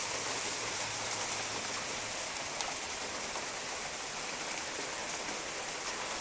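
Small pea-sized hail patters steadily during an autumn hailstorm, a dense, even hiss of stones striking surfaces nearby, with no voices over it.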